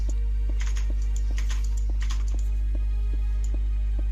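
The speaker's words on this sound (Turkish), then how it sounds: "Oğlum klavye sesin çok geliyor ya." Soft clicking of computer keys in scattered bursts over a constant low electrical hum, faint and somewhat distant.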